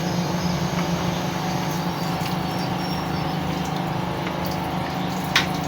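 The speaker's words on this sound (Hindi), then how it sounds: "पानी हम इतना डालेंगे जिसमें ये डिप हो जाए।" Water pours in a steady rushing stream into a bowl to cover ingredients for cooking, close and fairly loud, with no talking.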